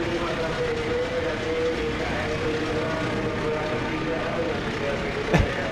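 An Argo Anjasmoro passenger train passes in the Trainz railway simulator game, giving a steady broad rumble with a sustained tonal whine and a brief sharp click near the end.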